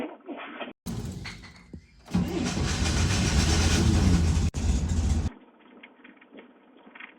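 A Chevrolet Corvair engine cold-starting after sitting a week: a short cranking burst, then the engine catches and runs loud and rough for about three seconds before dropping to a quieter, steady idle.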